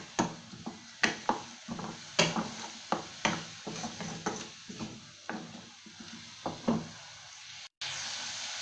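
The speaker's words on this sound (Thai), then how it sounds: "ผัดให้หมูสุกค่ะให้ทุกอย่างเข้ากันดีค่ะ" Pork is stir-fried in a pan, with a spatula knocking against the metal about once a second over a soft, steady sizzle, close and fairly clear, with no talking.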